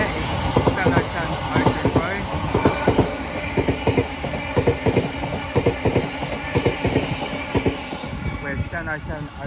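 Class 707 units 707023 and 707026 on a Charing Cross to Dartford service pass close by at New Cross on the South Eastern Main Line, rapid rhythmic clickety-clack of wheels over rail joints, loud and continuous, fading slightly near the end.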